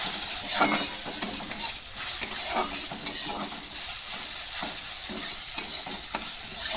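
Chopped garlic sizzles in a hot pan while a utensil stirs it, a constant high hiss broken by repeated scraping strokes against the pan, close and clear, with no talking.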